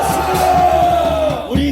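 A big outdoor rally crowd at Gwanghwamun roars in a sustained, loud mass shout, with a chanting voice and a steady drone over a rhythmic pulsing background.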